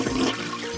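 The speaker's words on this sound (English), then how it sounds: "he threw the dirty toilet paper into the toilet and gave it a flush" A cartoon-style toilet flush, a short, loud rushing swirl of water heard close up.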